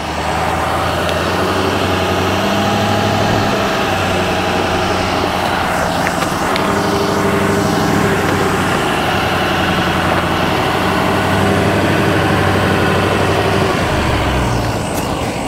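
A 2023 GMC Sierra 2500 Duramax diesel 4x4 pickup, heavily loaded, climbs a steep hill with four-wheel drive engaged, its engine droning loud and steady from up close without a break, and no voices over it.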